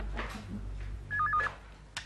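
A telephone sounds a short warbling electronic ring in a quiet indoor scene from a classic comedy serial, one brief burst followed by a faint click.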